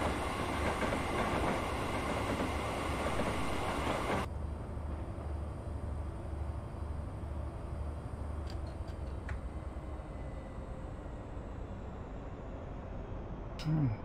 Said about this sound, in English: Love the sound of the engines firing up as you increase power.